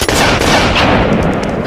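A single loud gunshot rings out in a film scene, a sharp, close blast that rolls into a heavy, booming echo and fades over a second or two.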